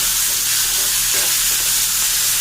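Onions and two chillies fry in mustard oil in an iron kadai, giving a steady, close, continuous sizzle with no talking.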